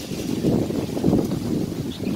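Strong wind blows across a canal-side garden with flowers at Sattahip, a steady broadband rush with gusts swelling and easing, close to the microphone, with no voices.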